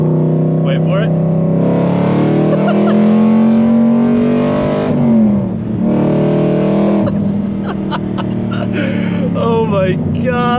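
A loud Aston Martin V8 Vantage GT4 with a VelocityAP Supersport exhaust and 200-cell cat revs in second gear from about 3,500 RPM, rising in pitch, easing off, then climbing again, with voices talking over it.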